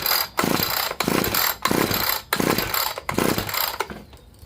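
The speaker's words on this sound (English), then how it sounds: "So what we'll do here is we'll go ahead and give it a few pulls." Recoil starter cord on an ECHO SRM-2620 string trimmer pulled repeatedly during a compression test, six loud rhythmic whirring pulls each about half a second long, close by, ending with a short fade.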